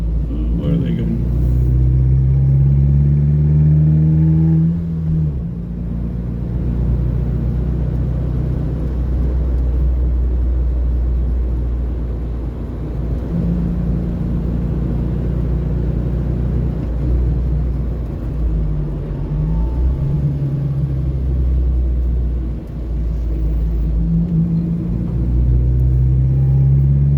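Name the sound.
car driving on a Sunday drive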